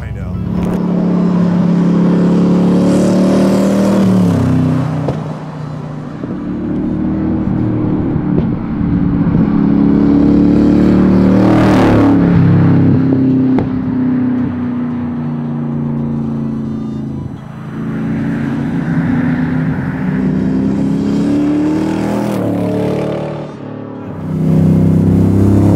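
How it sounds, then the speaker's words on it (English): A 7.3L Godzilla V8 in a lightweight Shelby Cobra MkIIIR, a Superformance 30th Anniversary car, accelerates hard. The loud engine drone rises and falls through repeated revs, with people talking over it. "wild how much power this light little car makes"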